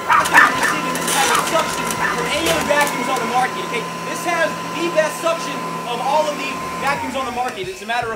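A Hoover vacuum cleaner runs steadily over tree bark on the ground, a constant loud motor drone with a whining tone, with people talking over it throughout.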